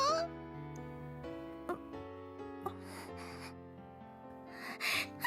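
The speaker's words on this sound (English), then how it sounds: "Miss Takeda lets out a small gasp as if in surprise." A woman's small, surprised gasp in the visual novel Nurse Love Addiction, a brief breathy intake near the end, heard over a steady backdrop of soft game music.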